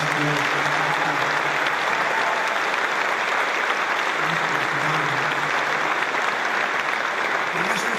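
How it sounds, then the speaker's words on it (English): Troops at an air base applaud in a steady, dense roar of clapping that holds loud and unbroken throughout, with faint voices buried beneath. "we want to be give a little special applause to somebody that's been so good"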